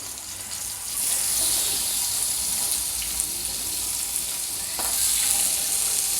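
Thin fish pieces frying in a pan, a steady broad sizzle close by that swells after the first second and holds at an even level with no talk.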